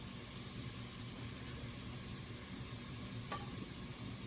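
Tuna cooks in a pan with a steady, faint sizzle and hiss, plus one small click near the end.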